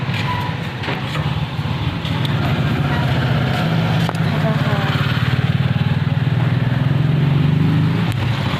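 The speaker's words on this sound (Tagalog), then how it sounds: "Rinig niyo pa kaya ako mga tricycle na dumadaan doon." Motorized tricycles rumble past at close range, a steady loud engine drone that builds and holds, with a person talking over the noise.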